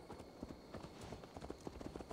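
Horse hooves clip-clopping at a steady walking rhythm in Assassin's Creed Valhalla, a string of fairly close, even knocks running the whole time with no talk over them.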